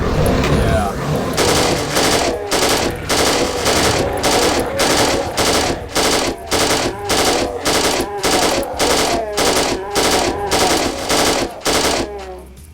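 Rapid bursts from a chain gun replacement weapon in a Doom mod hammer out in a steady, evenly spaced stream of loud, close shots, pausing briefly now and then, with a voice talking faintly underneath.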